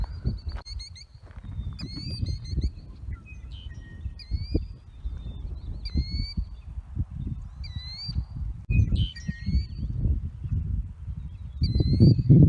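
Birds call and chirp repeatedly with short high whistles and trills over a steady low rumble of background noise.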